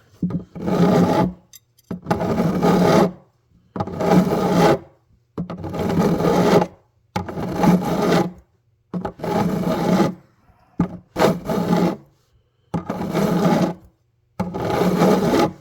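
Frets on a Yamaha FG410A acoustic guitar being dressed with a file, heard as eight or so steady rasping strokes, each lasting about a second with short pauses between, close and clear with no talk.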